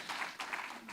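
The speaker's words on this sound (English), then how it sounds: "A round of applause." Applause from a symposium audience fills a moment, a short, soft and dense patter of many claps heard from some distance, fairly quiet and steady throughout.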